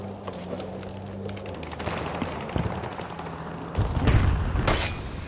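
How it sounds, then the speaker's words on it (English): A grenade explosion in a Battlefield game: scattered clicking and light gunfire-like taps lead to a single deep, loud boom about four seconds in that rumbles briefly before fading. "Tossing grenade."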